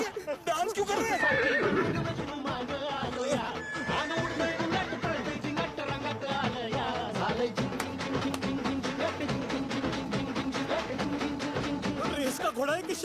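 A horse in a Bollywood comedy film scene neighs and whinnies repeatedly over dense background sound, with voices talking throughout.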